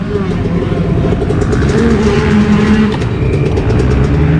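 A loud, throaty engine of an old, rain-soaked motorcycle unridden for at least 20 years runs with a rough, steady rumble and no letup, filling the whole stretch.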